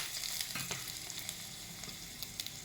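Mustard seeds, urad dal and three dried red chillies sizzle and crackle steadily in hot coconut oil for a South Indian tempering, with sharp popping bursts over a continuous close fry.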